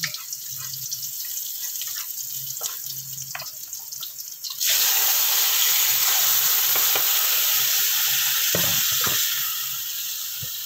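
Chicken pieces for adobo drop into a hot frying pan and burst into a loud, steady sizzle that holds for several seconds after quieter kitchen sounds and running water, then eases slightly near the end.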